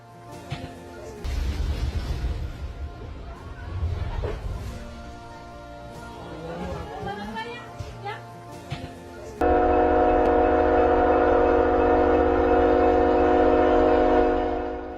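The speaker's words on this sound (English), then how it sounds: "This is what a derailment looks like from the inside." A train derailment from inside the carriage, with heavy rumbling, banging and grinding that shifts into a steady loud roar and whine partway through, no voices.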